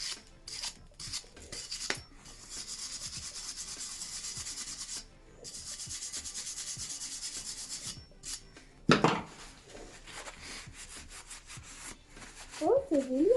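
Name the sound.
wire brush scrubbing rust off a metal tank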